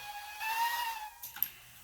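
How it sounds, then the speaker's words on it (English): Steam whistle on a K1 model steam locomotive, a single sustained tonal blast at moderate level, followed by a short hissing burst of steam near the end, with no voices. "But it's got a good whistle."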